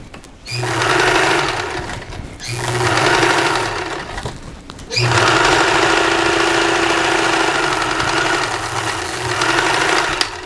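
A sewing machine topstitches a pillowcase in three bursts, each a steady rapid mechanical whir with short pauses between, the last run longest, close and loud.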